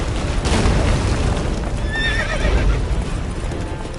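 Roach, Geralt's horse in The Witcher 3, gallops steadily with a continuous clip-clop of hooves and a brief whinny midway, close and loud over a heavy low rumble of battle and blizzard.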